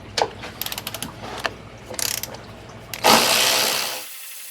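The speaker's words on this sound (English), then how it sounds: "let's go ahead and get that 10mm bolt out of there" Ratchet wrench clicking as it backs a 10mm nut off a Mercedes GL320cdi: quick bursts of metallic pawl clicks in uneven runs, close and loud, ending in a longer rasping spin before falling silent.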